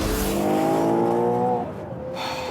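A Ferrari Purosangue accelerating on a Scottish road, its engine note rising in a loud, sustained rev close by, then easing off and picking up again at the end, with no talking.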